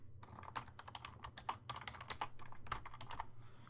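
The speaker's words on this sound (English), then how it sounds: "I'm going to type in first name test, last name" Keys clatter steadily on a computer keyboard while text is entered into a SQL Server Express 2008 R2 database form, a close, dry run of quick irregular taps over a low constant hum.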